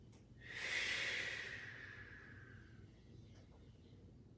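A single long, breathy exhale drawn out over a couple of seconds during a yoga twist, soft and close, fading gradually, with quiet background murmur beneath.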